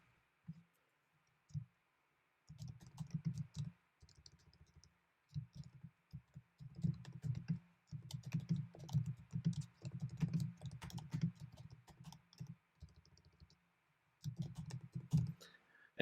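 Quiet clicking and keyboard typing at a computer, short bursts of keystrokes and mouse clicks, close and soft, with pauses between.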